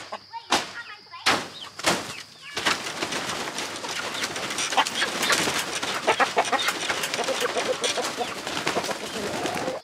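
Roosters cooing and clucking inside a coop, a few sharp knocks first, then a dense, continuous chorus of bird calls up close.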